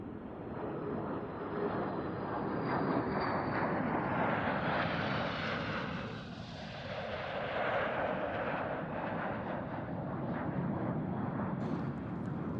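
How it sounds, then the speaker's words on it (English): A formation of F-16 fighter jets, including F-16CJ, F-16C and F-16AM variants, roars past overhead at an airshow: a loud, sustained jet rumble that swells and fades as the aircraft pass, with no talking. "the final wave of the flypast, a US Air Force F-16CJ, Turkish Air Force F-16C, and Romanian Air Force F-16AM"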